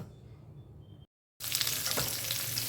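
Drumstick and potato pieces frying in a pan, a soft sizzle that cuts out briefly and then returns as a louder, bright crackling fry.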